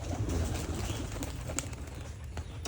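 Rajshahi pigeons coo close by in a low, continuous murmuring chorus of overlapping coos, steady and fairly loud throughout, with no voices.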